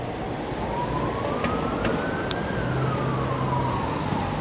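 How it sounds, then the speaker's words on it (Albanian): An ambulance stuck in traffic in Tirana sounds its siren in one slow, clear wail that rises and then falls over a steady street hum, with a few short sharp blips along the way. "fatkeqësisht ambulanca ka ndaluar aty sepse nuk mund të lëviz nga trafiku"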